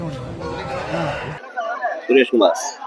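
People talk at first, then a few chickens cluck and squawk in short bursts nearby amid faint chatter at a chicken market in Meensurutti, Tamil Nadu.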